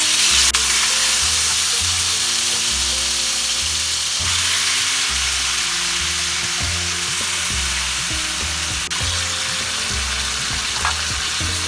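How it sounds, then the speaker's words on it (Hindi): Marinated tiger prawns fry in hot oil for a Hyderabadi prawn biryani, giving a loud, steady sizzle close up with occasional stirring scrapes and spatters throughout, no voices. "अभी मैरिनेटेड प्रॉन्स हमें कुक करना है।"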